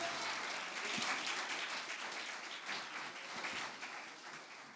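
A church audience applauds, urged to clap as loudly as possible; steady, dense clapping fills the space at a moderate level throughout, with a few sharper individual claps standing out.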